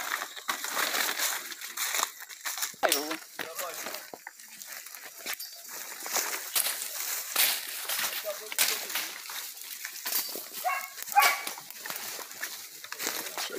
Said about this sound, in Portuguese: O cachorro chegou na cova aí.